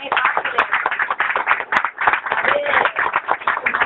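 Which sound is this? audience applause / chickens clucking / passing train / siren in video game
audience applause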